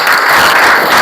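Classroom applause, a brief loud burst of dense clapping from a group of students.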